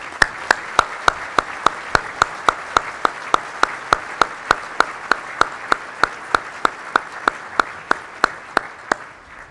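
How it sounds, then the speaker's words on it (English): Audience applause for Eagle Scouts at a governor's luncheon for scouting, a long run of sharp, evenly spaced claps in a steady rhythm, loud and close, with a light crowd wash underneath and no talking. "Let's give these guys a round of applause."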